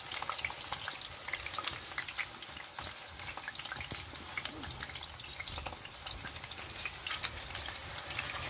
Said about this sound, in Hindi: अब जो बाकी आलू है ये भी हम अच्छे से फ्राई करेंगे